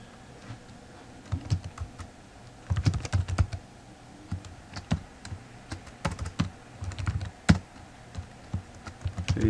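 Steady computer-keyboard typing of JavaScript code, with irregular bursts of close, crisp key clicks and a few louder taps, alone and without talk.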